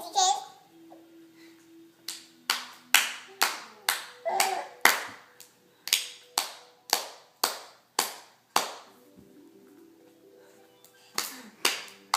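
Children clap their hands in a rhythmic clapping game, crisp hand claps about twice a second, loud and close, with a short pause near the end before the claps resume, while young voices chatter in between.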